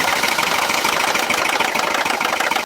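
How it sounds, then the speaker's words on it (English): A loud, continuous Mercedes M276 engine idle on startup with a busy metallic rattling clatter from the camshaft adjuster running steadily throughout, close up, stopping abruptly at the end. "when you first start up that engine, it rattles like crazy"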